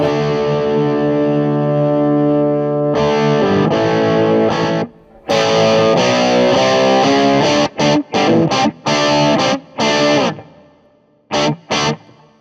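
An electric guitar played through a JHS AT+ distortion boost pedal rings out in loud, saturated sustained chords, then in choppy stabs with sharp gaps toward the end.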